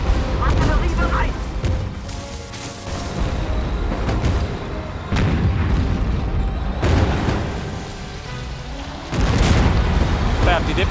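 Heavy booms and blasts of artillery fire burst out in War Front: Turning Point, several loud explosions hitting at intervals over rumbling battle noise while someone talks in German between and over them.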